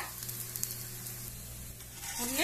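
Adai, a multi-dal dosa, cooking on a pan over a medium flame, giving a soft, steady sizzle up close that swells slightly at the end, with no talking.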